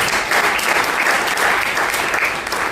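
Loud, dense applause from an audience at a shayari poetry gathering, a continuous wash of many hands clapping close by with no voices over it.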